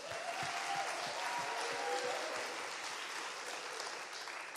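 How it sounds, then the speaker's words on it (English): Audience at a church celebration service applauding steadily, a dense, even wash of clapping that holds for several seconds without any voices over it. "another round of applause"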